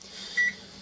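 A microwave oven runs with two grapes set side by side inside, giving a steady low hum and a brief, slightly louder tonal rise in the middle of a short stretch.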